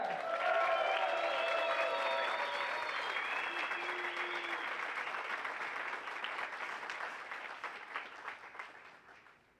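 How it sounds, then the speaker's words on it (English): A large home crowd applauds Estonian disc golfer Keiti Tätte at the tee during a women's pro chase final, with dense, sustained clapping and some cheering that slowly tapers, while a commentator's voice runs through it. "Big home crowd welcome for Keiti"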